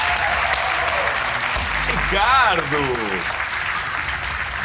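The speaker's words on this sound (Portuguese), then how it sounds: "O vosso aplauso para o Ricardo Santos!" A studio audience at a TV quiz show applauds the reigning champion, a loud, sustained ovation that swells midway while a voice calls out over it.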